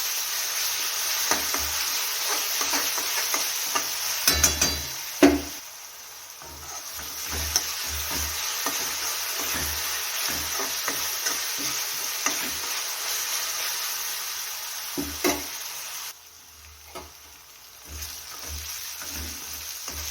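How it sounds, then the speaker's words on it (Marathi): Thecha, a chili paste ground with garlic, fries in a pan with a continuous sizzle, broken by repeated scraping stirs and a few sharper knocks of the spoon against the pan. "छान असा ठेसा फ्राय करून घ्यायचा"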